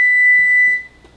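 A kitchen timer sounds a single sharp, high-pitched beep held for under a second, close by, then cuts off into quiet room tone while cooking vegetables and chicken for a pasta salad.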